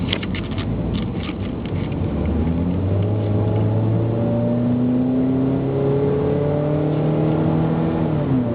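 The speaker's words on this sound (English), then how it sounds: "That wasn't even barely half throttle. It'll pull if you need it to." A Mercury Milan with the 2.3 engine accelerating at well under half throttle, a steady loud engine drone with rising harmonics as it pulls, heard from inside the car with no talking.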